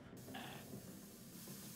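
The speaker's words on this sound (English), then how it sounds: "Ooh, the healing spray." A healing spray used in the Resident Evil 3 Raccoon City demo on PC gives a steady hissing burst lasting about half a second. It rises briefly above continuous game background noise.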